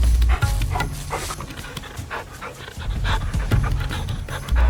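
African wild dogs in the Kalahari pant rhythmically up close, a steady run of rasping breaths with occasional deeper huffs and no other sounds.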